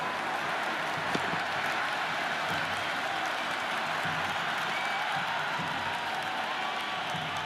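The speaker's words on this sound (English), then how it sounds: "The crowd is electric right now." A cricket crowd at an IPL eliminator match between SRH and RR, cheering and applauding in a continuous distant roar, with faint whoops rising out of the wash of noise.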